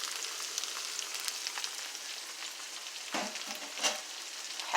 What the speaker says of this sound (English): I'm going to get it fried up